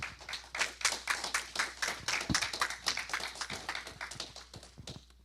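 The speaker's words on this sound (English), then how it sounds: "Let's give the choir another round of applause" A church congregation applauds the choir, a dense round of many hands clapping at a moderate distance for several seconds, fairly quiet overall.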